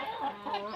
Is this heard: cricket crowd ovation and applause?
no